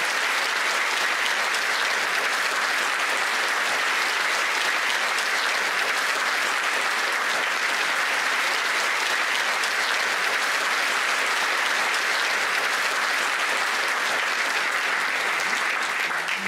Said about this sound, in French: Applaudissez chaleureusement Mademoiselle Olivia Gravel du groupe 337.